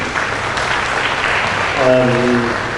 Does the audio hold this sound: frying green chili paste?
no